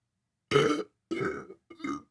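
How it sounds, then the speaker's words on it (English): A deep burp after chugging a full 32 ounces of water comes out in three close, loud bursts, each separated by a short silence. "Water break burp."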